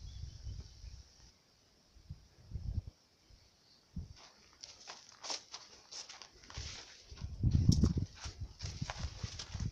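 A horse walks through a private forest, its hooves giving an uneven, nearby clip-clop that thickens into a cluster of heavier steps, with faint insect chirping in the background.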